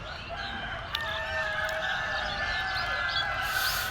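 Parent stock chickens at a hatchery farm, several birds clucking and crowing together in a busy, steady chorus over a constant background hum, no voices.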